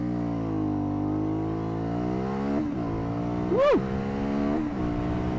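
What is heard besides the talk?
Aprilia Shiver 900 motorcycle accelerating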